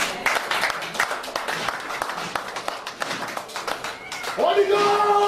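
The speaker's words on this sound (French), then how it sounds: "Acclamons pour Jésus le roi." A church congregation cheers and claps for Jesus, with dense rapid applause and scattered shouts throughout, and music or sustained tones rising near the end.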